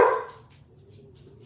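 A dog at home gives a single loud, close bark that fades into quiet background rumble.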